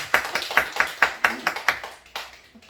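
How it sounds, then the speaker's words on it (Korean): A church congregation claps in unison during a Sunday worship service, about a dozen sharp, evenly spaced claps in a fast rhythm that then slows and trails off. "박수 한번 치겠습니다."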